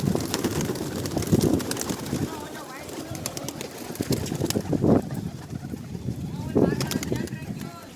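Pigeons released from their rooftop loft coo and flutter in a busy cluster, with bursts of wing movement rising over someone talking nearby.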